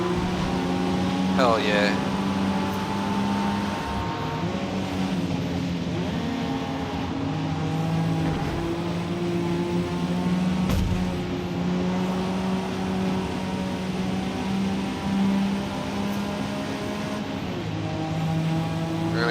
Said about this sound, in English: You can hear that turbo kit I put in.